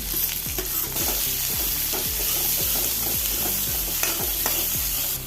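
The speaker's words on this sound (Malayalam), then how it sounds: "ഒരു ടേബിൾ സ്പൂൺ സൺഫ്ലവർ ഓയിൽ ഒഴിച്ച് കൊടുത്ത് ഇനി അരിഞ്ഞ് വെച്ച ഉള്ളി വെച്ച് കൊടുക്കുക" Chopped onions frying in a tablespoon of sunflower oil in a kadai, a loud, close, constant sizzle with rhythmic spatula scrapes repeating about twice a second.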